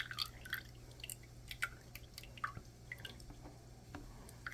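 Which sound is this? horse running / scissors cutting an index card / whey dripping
whey dripping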